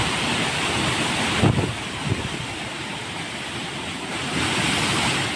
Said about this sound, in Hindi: कैमूर की पहाड़ी पर हुए मूसलाधार बारिश की वजह से झरने का ये रूप दिखा है।